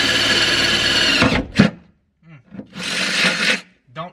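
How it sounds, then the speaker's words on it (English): Power drill boring pilot holes through a battery box to fit mounting studs on an onyx restoration, a loud sustained whine for over a second, stopping, then a brief burst and a second run a moment later, close up. "drill some pilot holes and try to get these studs through the box"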